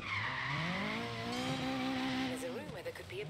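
A Mazda Miata revs hard with too much throttle in Forza Horizon 3, its engine note sweeping up and holding high as the wheels spin, then wavering and dropping near the end, loud and close, with a voice talking over it.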